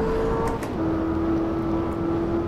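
The front engine of a Corvette ZR1 drones steadily in a racing sim at Silverstone International. It holds a strong, even note that drops in pitch once partway through and then stays level without a break.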